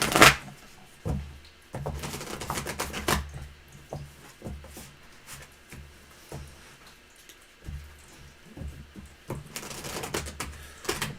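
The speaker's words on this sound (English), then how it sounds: "I'm going to shuffle it up a little better, so don't mind me." A Universal Monsters horror tarot deck is shuffled by hand in repeated bursts of riffling and sliding cards, close and crisp, with short pauses between rounds.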